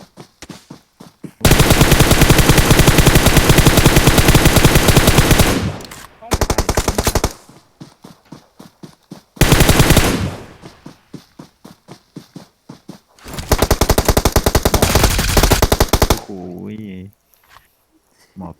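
Loud bursts of automatic gunfire from the video game PUBG, several long rapid volleys separated by short pauses, close and dominant throughout.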